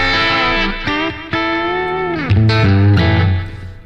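Electric guitar played through a Blackstar HT Club 40 amp with a short slapback delay, sustained notes and slides ringing out with quick echoes, then a heavier low note near the end, loud and close with no talk.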